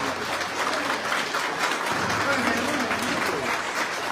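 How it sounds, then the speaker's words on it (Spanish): A festival crowd at the Huaylas patronal fiesta applauds to welcome the Huaromapuquio neighbourhood. The clapping is dense and steady throughout, mixed with crowd noise, and a voice talks over it. "Vamos a recibir a Huaroma con un caluroso fuego de aplausos."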